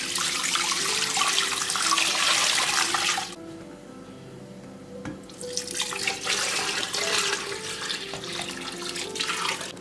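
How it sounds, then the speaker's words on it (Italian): Tap water gushes into a large pot holding a small chicken for tortellini broth. It is a loud, steady rush that stops briefly partway through, then runs again. "vado a mettere all'interno l'acqua fino a farlo ricoprire tutto"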